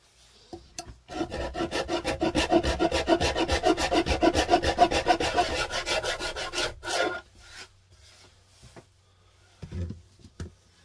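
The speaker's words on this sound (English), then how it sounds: "that's only taken 5 minutes with the rough side of my Shinto rasp" Rough side of a Shinto rasp filing a wooden Strat-style guitar body in a small workshop, a steady run of rapid rasping strokes for about six seconds, loud and close, then a few short scrapes after a pause.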